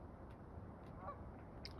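Geese honking overhead, heard from a third-floor porch in suburban New England: a few faint, distant honks over steady outdoor background noise.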